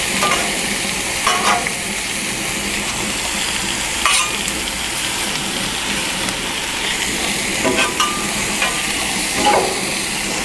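Onions and peppers sizzle on a Blackstone griddle in a steady, close, broadband hiss, with a few brief scrapes and clicks popping up over the constant frying.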